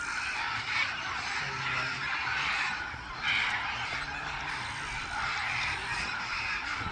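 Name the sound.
blue and yellow macaws calling in the Amazon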